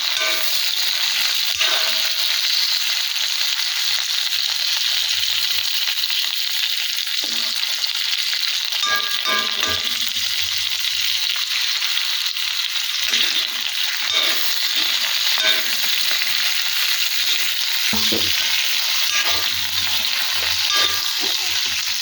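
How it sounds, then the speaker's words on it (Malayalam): Tomato puree frying down in oil, a steady hissing sizzle with soft bubbling and occasional muffled stirring thuds and scrapes throughout, no voices. "എല്ലാം കൂടെ നമുക്കൊന്ന് വരട്ടിയെടുക്കാം. ഒന്ന് നന്നായി എണ്ണയിൽ വരലാക്കാം."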